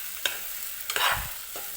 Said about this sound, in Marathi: आणि हे व्यवस्थित तेलामध्ये आपल्याला भाजून घ्यायचं आहे आता.